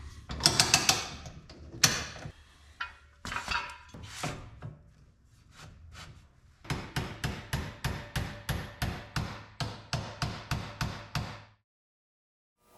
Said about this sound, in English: Install the handle pin. For this, you can use a normal hammer.